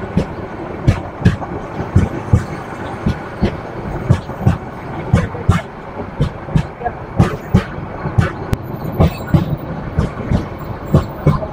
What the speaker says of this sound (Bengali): আমাদের ট্রেনও এই মুহূর্তে ছেড়ে বেরিয়ে যাবে